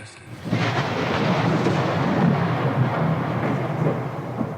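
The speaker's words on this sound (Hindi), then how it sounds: "तभी बिजली कड़की।" Loud, rolling thunder crack in a horror story, a sustained deep rumble that swells and lingers for several seconds with a stormy, rain-like wash and no voices.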